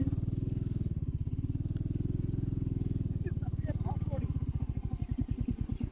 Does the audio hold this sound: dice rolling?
no